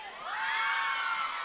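A crowd of women at a live concert scream loudly together, one sustained high-pitched shriek swelling and holding close and strong.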